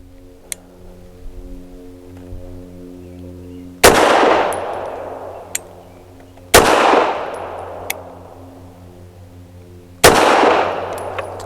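A Bersa TPR 380 pistol fires three rounds of Remington HTP 88-grain jacketed hollow points, each a sharp, loud report with a ringing tail, spaced a few seconds apart over quiet background hum.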